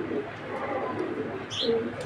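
A grizzle racer pigeon hen, young and stone-eyed, coos in low throaty rolls close by, joined by a brief higher chirp near the end, with no talking over it.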